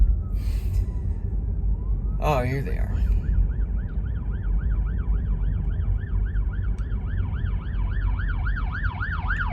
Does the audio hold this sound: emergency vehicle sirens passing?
yes